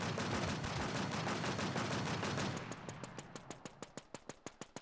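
Rapid automatic gunfire from the video game Infest Fantasy, a dense sustained burst that thins into a steady rhythm of separate sharp shots, loud and close with no talking.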